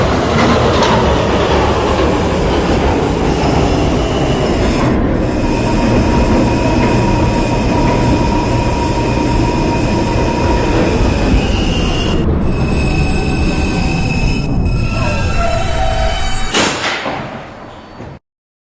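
An R160B subway D train runs along the rails, a loud continuous roar with rhythmic wheel clatter and rising squeal tones, easing off near the end as it slows.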